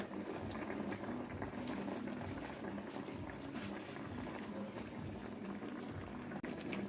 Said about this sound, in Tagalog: Kumukulo na po, buksan natin.